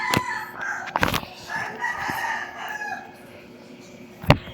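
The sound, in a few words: chicken clucking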